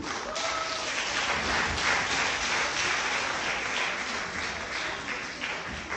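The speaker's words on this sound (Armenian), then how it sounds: "Ուզում եմ ևս մեկ անգամ բարձր ծափահարել բոլոր մասնակիցներին։" An audience at a song and dance festival in Ijevan applauds loudly and continuously for the performers, a sustained wash of clapping from a large crowd.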